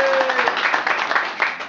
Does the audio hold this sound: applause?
yes